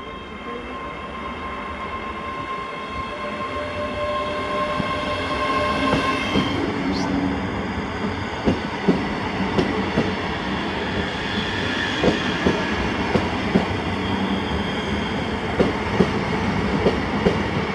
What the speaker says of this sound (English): this was 2B81, the 1440 ScotRail service to Glasgow Centre from Lanark. And it was 385016 doing the service